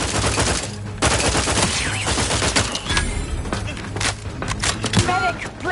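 Gunfire from The Outer Worlds 2: dense rapid shots and bursts from several weapons over a steady game backdrop, with voices calling out between the volleys.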